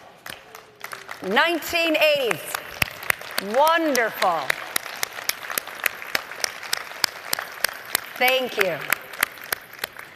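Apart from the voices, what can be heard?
audience applause at a conference session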